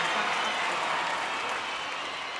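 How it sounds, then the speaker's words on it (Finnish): A crowd at the Blockfest 2022 live concert applauds, a dense, steady wash of clapping and cheering that holds at constant loudness throughout. "Antakaa aplodit."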